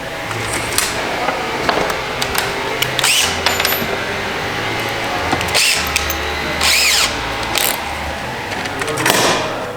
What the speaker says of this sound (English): now I'm gonna use a bigger drill bit